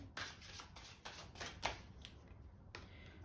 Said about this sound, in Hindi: एक और कार्ड मैं निकालूंगी यहाँ पे।